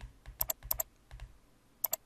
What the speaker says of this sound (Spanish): voy a hacer doble clic aquí